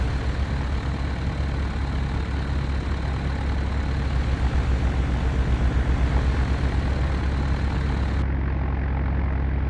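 A Douglas DC-3 piston engine taxiing in Flight Simulator X gives a steady, loud, low rumbling drone that stays even throughout, with no voices.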